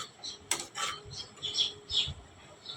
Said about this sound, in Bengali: এখন আমি সবগুলো বাটা মশলা কড়াইতে দিয়ে দিলাম সুটকিটাও আমি কড়াইতে দিয়ে দিলাম